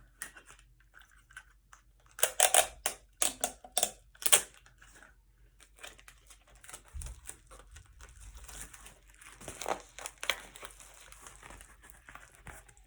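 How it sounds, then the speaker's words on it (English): Tape pulled and pressed onto a paper jewelry mailer gives a cluster of sharp crinkling, crackling bursts, followed by softer rustling of paper, quiet and close with no talking. "I'll use a small piece of tape to cover that up."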